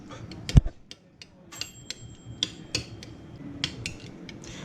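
Chili garlic sauce being stirred into mayonnaise with a utensil, giving scattered light clinks and scraping taps against a bowl at close range, with no talking.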